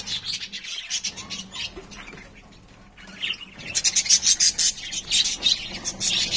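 Budgerigar chicks and a female in a clay pot nest give bursts of high, rapid chirps and squeaks, close by, with scratchy rustling in the pauses between calls.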